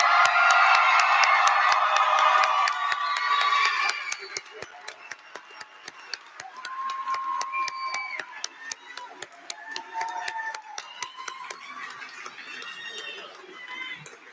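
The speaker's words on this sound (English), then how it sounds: "let's give a round of applause for our graduates." A crowd applauding graduates at a high school graduation ceremony, a dense wash of claps that thins after a few seconds into scattered clapping and murmuring voices.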